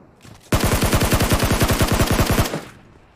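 Sustained automatic rifle fire in a shooter video game, AM2-type weapon, a loud rapid burst of about twenty evenly spaced shots lasting roughly two seconds, standing alone without talk.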